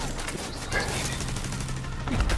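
Gunfire in The Division 2 video game, a dense rattling fusillade of shots running steadily through the moment under game ambience, with no speech.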